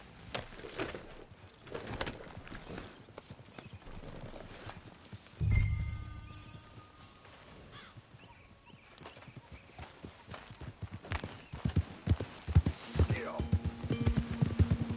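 Horse hooves clip-clop on a ride in the video game Red Dead Redemption, a steady rhythmic trot at moderate distance amid game ambience and other background sounds.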